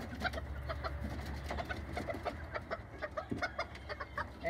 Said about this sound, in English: I believe he's a silk rooster. So that's basically like a silky chicken